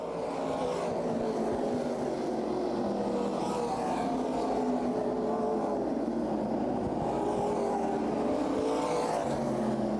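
Modified race cars racing around Berlin Raceway, a continuous dense roar of several engines at speed, rising and falling as the pack circles the oval, loud and steady throughout.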